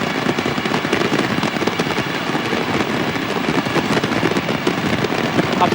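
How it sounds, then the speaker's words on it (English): Dense, continuous crackling of firecrackers and fireworks at the 2007 Copa America final celebration in Venezuela after Brazil beat Argentina 3-0, loud and rapid popping throughout with no pauses. "A firecracker welcome."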